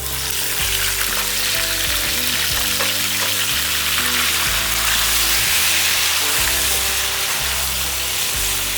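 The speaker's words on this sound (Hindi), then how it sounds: "अब मैं डालूँगी गोल कटे हुए आलू।" Round-cut potato slices frying in oil with chili flakes give a steady, loud sizzle and crackle throughout, with a continuous background hum and no voices.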